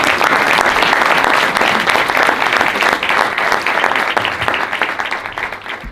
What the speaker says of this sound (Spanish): damos un aplauso a todos